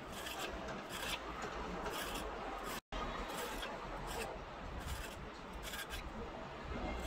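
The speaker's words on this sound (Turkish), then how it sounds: "Ben dolma oyacağının tırtıklı kısmıyla kabuklarını soydum." Zucchini skin is peeled with the serrated edge of a dolma corer, a continuous close rasping scrape with a brief break partway through and repeated rhythmic strokes.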